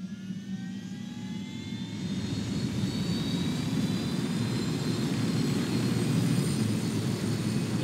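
An aircraft engine in the video game Ghost Recon Wildlands whines and roars steadily, growing louder after a moment and holding a high turbine whistle over a deep rumble.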